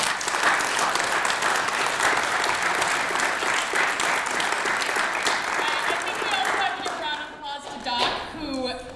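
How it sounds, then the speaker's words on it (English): Sustained audience applause honoring students at a disability advocacy event in Mid-Michigan, loud and dense for most of the clip before thinning out near the end, with some voices mixed in. "So let's give them another round of applause."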